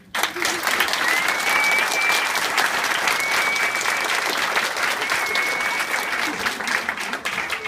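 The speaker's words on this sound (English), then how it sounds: "I would like everybody to give a round of applause to all these nurses here" An audience applauds nursing graduates at a pinning ceremony at Southeastern College, a loud, dense, sustained ovation that starts abruptly and stays full, with a few faint whoops and voices in the crowd.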